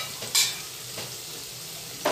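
Okra (bhendi) fries in masala in a pan with a low, steady sizzle. A few short bright stirring scrapes break in near the start and again at the end.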